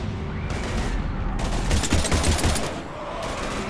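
Dense bursts of rapid gunfire from Mass Effect 3 combat, loud and close, overlapping volleys rattling almost continuously with short gaps between them.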